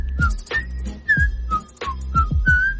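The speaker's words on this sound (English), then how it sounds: "He's doing a little whistling" One person whistles a short tune, bright melodic notes with slides between pitches, alone and close, punctuated by sharp percussive knocks roughly every half second.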